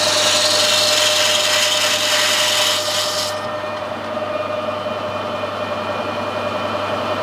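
Machining a bronze bush with an 18mm hole cutter, a steady close cutting hiss and whir over a low machine hum. The cutting noise stops abruptly partway through while the motor keeps running.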